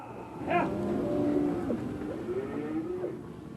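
Cattle mooing on a central Oklahoma farm during intense summer heat: a single long, low moo rising and trailing off, heard fairly close over faint outdoor background noise.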